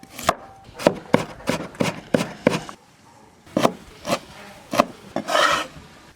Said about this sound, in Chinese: 把韭菜切碎